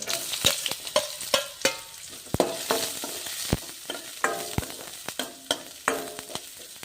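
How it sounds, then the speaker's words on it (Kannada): Garlic and onion fry in a pan with a steady sizzle, while a utensil scrapes and clicks against the pan at an irregular stirring rhythm, close and clear. "ಗೋಲ್ಡನ್ ಕಲರ್ ಬರುವವರೆಗೂ ಫ್ರೈ ಆಗಿ ನೋಡ್ರಿ"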